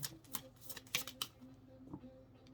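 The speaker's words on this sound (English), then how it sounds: "Let's get one more card." Cards being shuffled for a tarot-style card reading, a few quick riffling bursts close to the mic in a quiet room, followed by faint handling noise and no talk.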